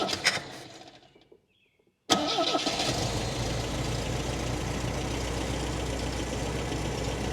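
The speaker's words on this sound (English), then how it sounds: "the fact that it started that easy with no choke, it's running too rich" An MGB engine that is running too rich cranks and catches after a brief silence, then settles into a steady, close, rumbling idle with no voices over it.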